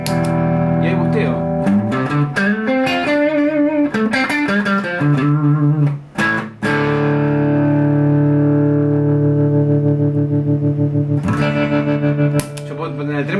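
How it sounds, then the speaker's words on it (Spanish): An electric guitar played through a tremolo pedal with the effect boosted louder than the dry signal, sustained chords and notes pulsing with a wobbling volume, no voice heard. "Yo puedo poner el trémolo mucho más fuerte que la señal natural."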